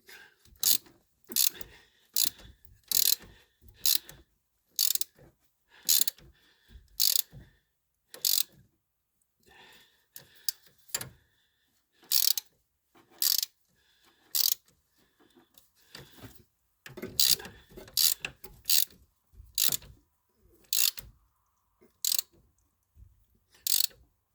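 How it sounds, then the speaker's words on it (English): Broken-off bolt turned back out with a ratchet, loud close clicking in short repeated bursts separated by brief silences, with no talk. "It broke off at the edge of the threads on the bolt, so I'm just turning it back out"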